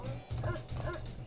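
Attack dogs in the Command & Conquer game Red Alert mod Blue Alert give a couple of quick, close yipping barks with whimpering tones over a low steady hum.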